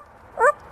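A parrot imitates a dog bark with one short, clear, yelping bark-like call, close and fairly loud against quiet room noise.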